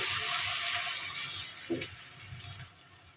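Masala with coriander powder and salt, cooked down for a potol kofta curry, sizzles in a pan as a soft, steady hiss that fades slightly near the end, with a brief thump partway through.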